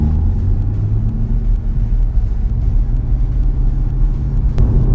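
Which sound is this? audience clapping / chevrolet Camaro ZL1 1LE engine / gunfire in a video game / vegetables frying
chevrolet Camaro ZL1 1LE engine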